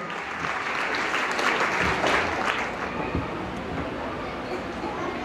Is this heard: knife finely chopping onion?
no